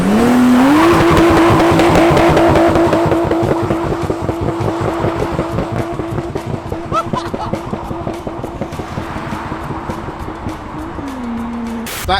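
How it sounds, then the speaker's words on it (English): A Nissan Skyline does a burnout, its engine held at a high, steady rev for several seconds while the tires squeal and roar loudly, then the revs drop at the end. "Looking to get a cheeky burnout."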